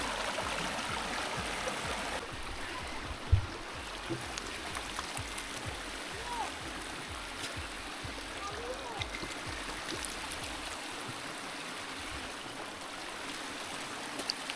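A hill stream in a rural hill village of West Tripura runs as a steady broadband rush of flowing water, constant and fairly close, with a brief knock and faint scattered sounds over it.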